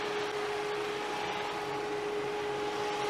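An extra electric cooling fan added to a Suzuki SX4 Xover runs steadily, a constant whirring rush with a thin steady tone, close and unchanging throughout.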